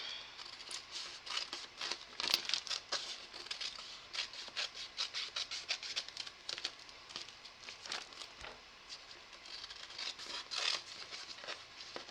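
Scissors cutting around a paper tracing sheet, with steady close snips and faint papery rustling that continue throughout.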